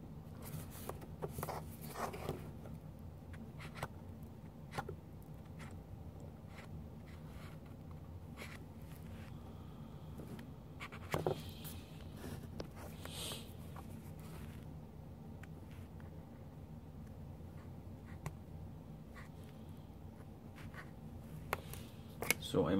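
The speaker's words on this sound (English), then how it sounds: "So I'm gonna mark it for you so that you have a better understanding of what I need to cut off." Black marker scratching on a part being marked for cutting while lowering an A-100 van, short squeaky strokes in quiet room noise, with someone talking at times.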